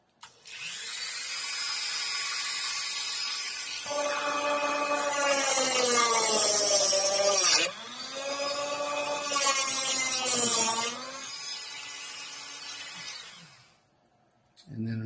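A brass tube is cut with a harsh, squealing scrape in two long sustained passes, its pitch wavering and bending, before it stops and falls nearly silent.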